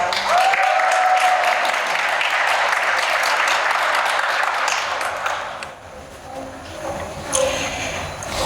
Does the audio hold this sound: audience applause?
yes